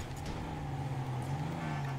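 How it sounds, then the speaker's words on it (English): Off-road trucks racing in the video game GTA 5, a steady low engine drone holding throughout with no talk over it. "I can hear your trucks."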